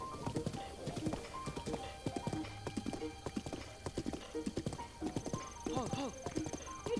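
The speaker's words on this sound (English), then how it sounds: "Oh, hi, other horsey friends." Horses in the video game Breath of the Wild trot with steady, close clip-clop hoofbeats, and a whinny sounds near the end while a person talks over them.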